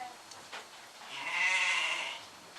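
A newborn goat kid, about two weeks old and one of a pair, gives a drawn-out, wavering bleat that swells in the middle and fades, close by against faint outdoor background.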